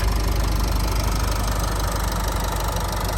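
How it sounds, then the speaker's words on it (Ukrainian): A Renault Koleos 2.0 dCi diesel engine, automatic 4WD, idles steadily and close by, a dense low rumble with a constant knocking diesel clatter and no other sounds. "Ось так працює мотор, відразу показую."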